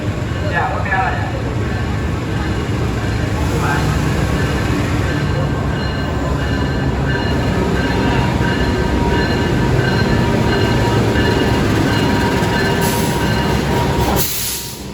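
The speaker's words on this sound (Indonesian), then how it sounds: "tepat di depan Anda sekarang adalah kereta Mutiara Selatan." The Mutiara Selatan passenger train at an Indonesian station, a loud, steady rumble of railcars with faint wheel squeal and metallic rattling, under a voice talking, ending with a brief drop in noise.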